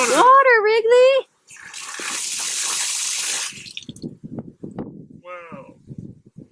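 Water rushes and hisses steadily through newly reconnected house pipes after a main shut-off valve is opened, lasting a couple of seconds between bursts of excited talking and a dog's whine.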